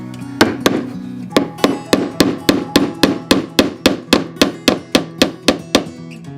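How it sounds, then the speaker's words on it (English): A small hammer drives a nail into wood with a steady run of around twenty crisp, ringing taps, close by and evenly paced. "I'm using the little hammer so I don't gorilla man"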